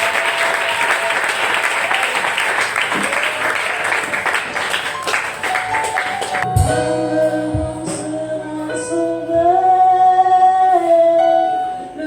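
A church congregation bursts into loud, dense applause that fills the first half, then cuts away to sustained organ-like music chords playing alone.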